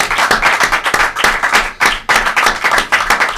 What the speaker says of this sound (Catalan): un fort aplaudiment per l'Ester, perquè hem de fer agraïments